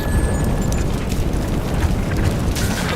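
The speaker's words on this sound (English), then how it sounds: "An airstrike." Airstrike in Call of Duty: Black Ops 6 hitting its target: sustained heavy booming roar with rolling low rumble and scattered debris crackle throughout, loud and close, no talking.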